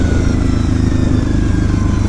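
A Kawasaki KFX 70 quad's small engine drones steadily and close while riding on a road, a continuous mid-low motor hum with no pauses or talk.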